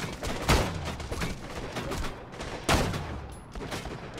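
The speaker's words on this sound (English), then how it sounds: "I got somebody shooting through that that I can't even see" Gunfire in Borderlands 2: bursts of rapid shots with two sharp, louder blasts early and midway, over a busy rattling firefight with no one speaking.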